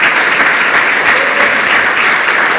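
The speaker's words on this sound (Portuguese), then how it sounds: "Então vamos dar um aplauso muito, muito agradável ao Senhor" A church congregation applauds in a steady, dense roar of clapping that holds at full loudness from start to finish of the brief stretch.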